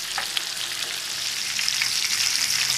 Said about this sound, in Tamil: ஒரு சைடு மீன் நல்லா ஃப்ரை ஆயிடுச்சு.